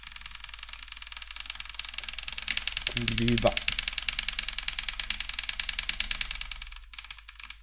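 A video-game scooter engine buzzes in a rapid, rattling drone throughout, with a person swearing briefly over it partway through.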